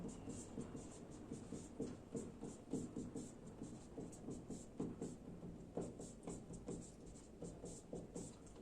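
Chalk or a pen writes out a math equation, a rapid run of soft scratchy strokes in an uneven rhythm. It sounds faint and close and goes on throughout with only brief gaps.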